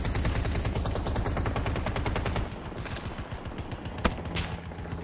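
Rapid automatic gunfire in Battlefield 2042, a dense stream of shots for about two and a half seconds that then thins into scattered bursts, with one sharp loud crack near the end.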